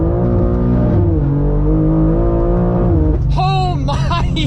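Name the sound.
720whp 2023 BMW M2 first gear pull accelerating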